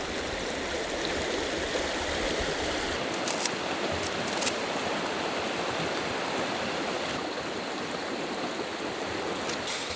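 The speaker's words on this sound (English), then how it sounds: "just that gentle sound of the stream, the birds, and the raindrops on the tarp" Steady rushing water from a nearby stream fills the scene, with a few faint scattered taps like drops landing on a surface.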